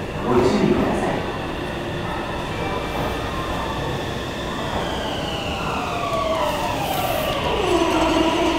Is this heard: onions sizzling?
no